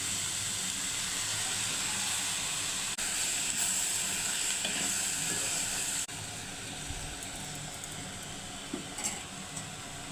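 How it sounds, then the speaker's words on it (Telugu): Cabbage and tomato pieces fry steadily in a pan with a dense, continuous sizzle and hiss, close and fairly loud, with faint stirring scrapes toward the end. "క్యాబేజీలో నీరు ఉంటుంది, ఆ నీరంతా బయటకు వచ్చి మంచిగా ఉడుకుతుంది."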